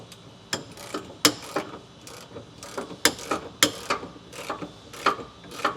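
A ratchet wrench tightens a bolt onto a truck running board while fitting Aries 3-inch round nerf bars, making short bursts of sharp, close metallic clicks in an uneven rhythm with brief pauses between strokes.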